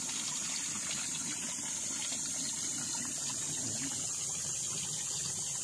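Spring water flows steadily from the ground on a farm lot beside a river in Calauan, Laguna, during the dry season, making a constant close rushing hiss with no pauses.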